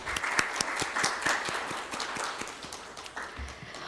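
Audience applause in a room at a medical science symposium, distinct sharp claps standing out from a dense crowd clapping that gradually softens.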